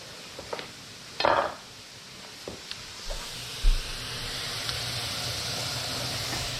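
Breakfast sausage browning in a touch of butter in a skillet, a soft steady sizzle and hiss with a few clinks of utensil on pan, quiet and close.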